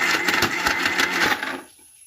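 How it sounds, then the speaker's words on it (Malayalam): An electric mixer grinder whirs as it grinds ingredients with poured milk, a loud buzzing, rattling run lasting over a second before cutting off abruptly. "ഇനി നമുക്ക് ഇതൊന്ന് അരച്ചെടുക്കാം."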